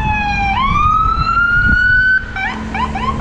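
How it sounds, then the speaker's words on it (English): A loud ambulance siren wails close by in Maui, Hawaii, its tone sweeping up and then breaking into a fast yelping pattern, with traffic rumble beneath. "even though it's an ambulance"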